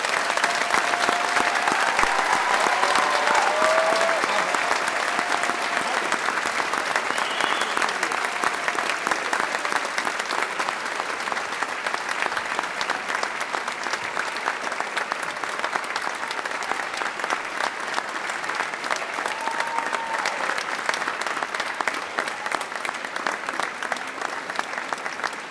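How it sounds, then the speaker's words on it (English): Sustained applause fills a large hall at a spring graduate commencement, a dense, even roar of many hands clapping that continues steadily without pause. "You can give a round of applause, it's okay."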